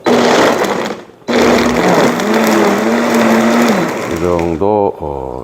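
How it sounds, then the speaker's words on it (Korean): A high-speed blender roars through two loud bursts of grinding with a steady motor whine, then cuts out as a voice speaks briefly. "이 믹서기가 고속이라서 한 2번 정도 그냥 갈면"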